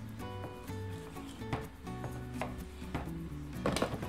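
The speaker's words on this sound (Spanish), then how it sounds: "A mí me gusta partir un poco el jitomate para ayudarle a la licuadora" Several sharp knife strikes against a cutting board as tomatoes are cut in half, spaced irregularly, with music playing steadily underneath.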